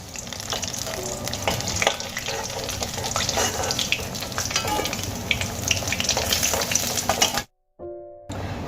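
Whole pieces of katla fish fry in hot oil in a wok, giving a loud, steady crackling sizzle with small pops throughout that cuts out sharply for a moment near the end.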